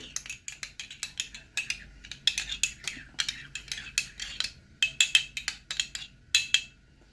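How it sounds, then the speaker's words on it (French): Utensil stirring yeast into a pizza dough mixture in a bowl, a rapid sequence of close, bright scraping clicks and taps in an irregular rhythm, fairly quiet with nothing else heard. "on va rajouter la levure, on la remue."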